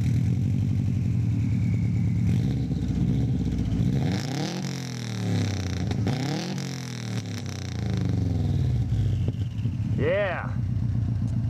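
A Subaru EA82 hatchback engine revs hard with a loud, throaty exhaust rumble, rising and falling several times while people talk nearby.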